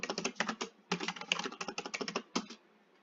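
Fingers typing a password on a computer keyboard, a quick close burst of crisp key clicks in two uneven runs with a brief pause between, then a final pair of taps.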